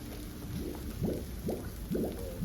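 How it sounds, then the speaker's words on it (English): Rapid gurgling and popping bubbles as molten lava hits ice at a lava show in Reykjavik, a steady burbling with repeated bursts and hissing, close by. "you see that bubbling reaction there as it hits the ice?"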